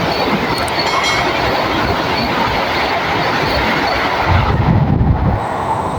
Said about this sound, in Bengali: দেখো, বন্দে ভারত ট্রেন